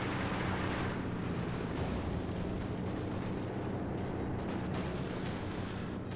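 Gunfire and artillery rumble in a Company of Heroes 2 battle, a dense continuous barrage of booms and crackling shots with a low steady drone, played without any voice.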